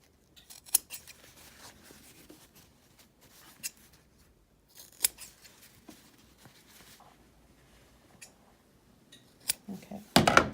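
Sharp scissors snips trim the small corners off fabric while sewing a pocket tissue holder, several crisp isolated cuts spaced apart in a quiet room, with a louder cluster of snipping at the end.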